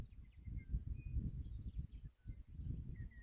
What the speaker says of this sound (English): I thought a rock wren was further south in the desert.